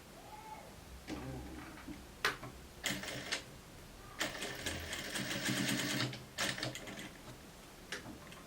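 A sewing machine stitches fabric in several short bursts of rapid mechanical clatter separated by pauses, with one longer run in the middle, fairly quiet and close, with no talking.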